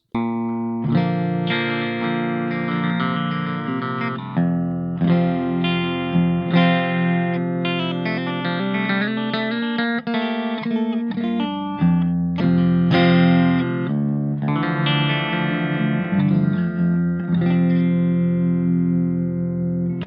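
An electric guitar is strummed repeatedly with distortion and effects, full chords ringing in rhythm, close and loud with no talking.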